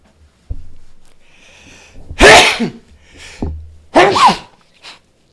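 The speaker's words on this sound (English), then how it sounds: "I'm trying not to sneeze right now, or maybe I'll just do it." A fully restored 1986 Kawasaki KLR600 motorcycle engine idles steadily nearby with an even, rapid putter and light mechanical clatter, no revving.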